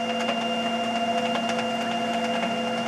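A printer runs steadily while laying down colour layers and a white coat on polycarbonate, giving a constant mechanical hum with tonal whine and faint periodic clicks, no talk.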